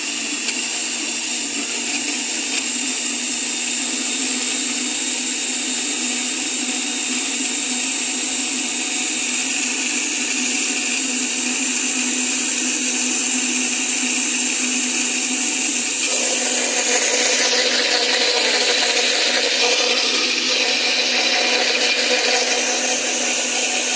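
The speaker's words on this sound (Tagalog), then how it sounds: "Mag-blender ng malunggay at saka pineapple, pinya." A blender runs steadily and loudly with moringa leaves and pineapple inside, holding a constant whirring drone whose pitch brightens partway through as the mixture breaks down; nobody speaks.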